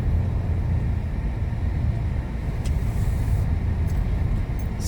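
Race cars on the track at Chang International Circuit in Buriram, Thailand, a steady loud engine roar that holds throughout with no gaps, broad and rumbling as cars circulate at a distance.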